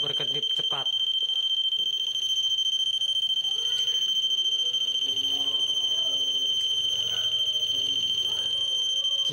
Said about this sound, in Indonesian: LED dan buzzer akan menyala cepat atau berkedip cepat